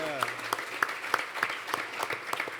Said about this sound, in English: another round of applause for Becky and the folks from Cross Campus